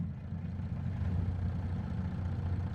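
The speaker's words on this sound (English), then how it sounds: "So let's start this bad boy up." Mack truck diesel engine with a freshly overhauled motor, running at a steady low rumbling idle, loud and close, no voices.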